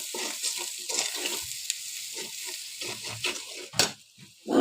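Ghee sizzles in a pan while it is stirred, a close crackling fry broken by frequent scraping strokes and a sharp clink of utensil against metal near the end.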